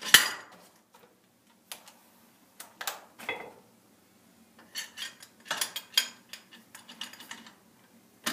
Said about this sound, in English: Let's put all our bolts in.